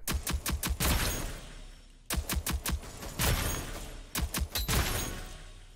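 Gun firing in the video game Rogue Company, bursts of rapid, sharp shots in three clusters of four to six rounds each, loud and close, separated by short pauses with no talk.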